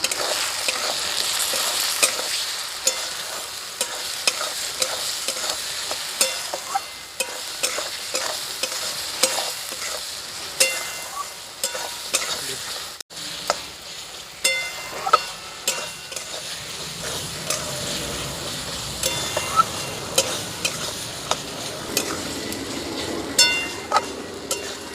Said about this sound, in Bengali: মশলাটা হালকা করে আমি ভাজা ভাজা করে নিয়েছি